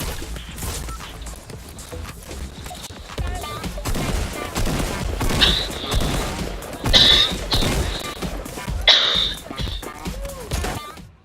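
Gunfire in the video game Fortnite, bursts of rapid shots that grow louder midway with sharp high crackles, mixed with game effects and occasional voices in the background.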